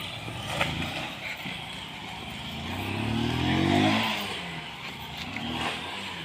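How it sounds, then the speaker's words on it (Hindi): A car engine starts up and pulls away near Jatmai and Ghatarani temples, its revs climbing to a loud peak and easing off as it drives, under wind noise and with no voices. "अपन हाँ गाड़ी चल दी देखिए"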